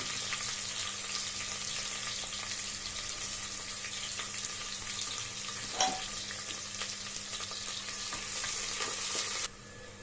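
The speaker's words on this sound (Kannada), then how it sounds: "ಈರುಳ್ಳಿ ಲೈಟಾಗಿ ಗೋಲ್ಡ್ ಬ್ರೌನ್ ಕಲರ್ ಆಗಬೇಕು ಅಲ್ಲಿವರೆಗೆ ಫ್ರೈ ಮಾಡ್ಕೊಳ್ಳಿ" Chopped onions sizzle steadily in hot oil in a home kitchen while being cooked to golden brown for kushka, a constant crackling hiss with a brief stir clink midway, the level dropping at the very end.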